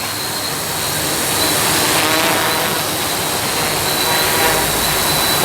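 A quadcopter drone flies close by, its steady, loud whirring buzz running without a break and swelling slightly mid-way, with no voices over it.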